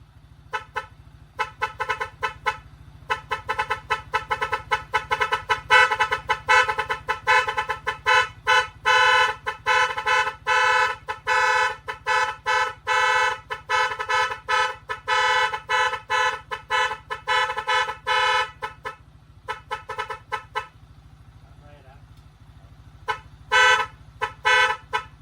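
Car horns honk in repeated bursts, many short beeps and longer blasts overlapping loudly, with brief pauses between volleys.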